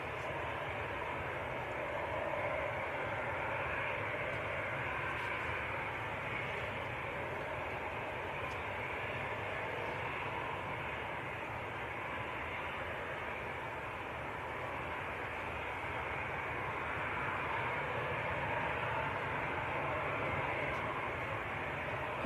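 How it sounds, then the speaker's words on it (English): An EasyJet Airbus A320 jet airliner bound for Copenhagen at Manchester Airport gives off a steady, distant engine rumble and hiss that stays even and moderately faint throughout, with no voices. "So this one is EasyJet to Copenhagen, Airbus A320."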